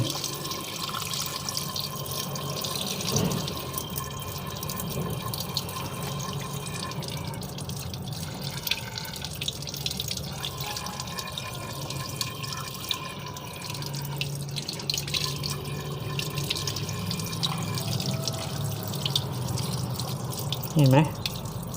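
Water runs from the valve hole of a water heater's supply valve taken off for cleaning, a steady close splashing flow with faint drips that continues throughout, with someone speaking at times.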